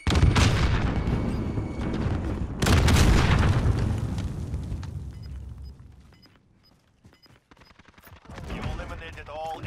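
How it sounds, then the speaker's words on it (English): Heavy booms and bursts of gunfire roll through a battle royale video game firefight, loud and dense at first, easing off into scattered shots and fading, then swelling again near the end, with players talking over it. "Throw grenades."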